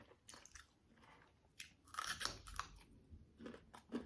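Fresh raw garlic is bitten and chewed near the mouth, giving soft, irregular crunches that grow louder midway and return in brief bursts near the end, with no talking.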